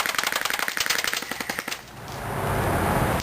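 A Crosman R76 AK-74U BB gun loaded with 0.12 g BBs fires a rapid full-auto burst of loud, close, evenly spaced snapping shots, then stops and leaves a fading hiss and low rumble.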